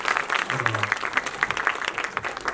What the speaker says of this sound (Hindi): इनके लिए जोरदार ताली होनी चाहिए।